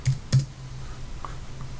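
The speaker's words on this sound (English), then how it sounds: "maybe the more you type, the nicer you seem" Two quick, crisp clicks of computer keyboard keys close by, followed by a faint low hum and a few softer taps.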